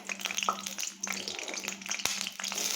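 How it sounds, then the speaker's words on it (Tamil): Garlic, small onions, green chillies, dried red chillies and curry leaves sauté in hot oil, giving a steady close sizzle broken by stirring scrapes and a sharp clink, while a voice may sound faintly underneath. "பச்சை மிளகாய், கருவேப்பிலை, வரமிளகா எல்லாம் போட்டு வதக்கிக்கலாம்."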